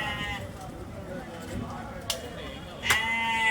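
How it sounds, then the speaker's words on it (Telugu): Sheep bleat at a busy Sunday meat market where live sheep and goats are sold, two short calls rising over a constant murmur of crowd chatter and background noise. "గొర్రెలు ఉన్నాయి ఇక్కడ"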